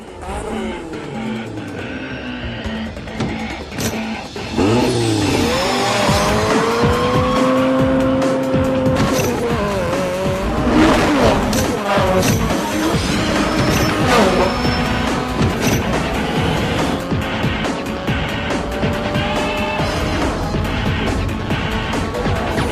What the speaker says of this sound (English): He races up to 140 miles per hour and then spins out.